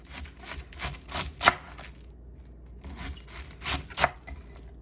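A kitchen knife chops through the hard heart of a vegetable in a series of crisp, close cuts, several quick strokes, a pause, then a few more sharp chops.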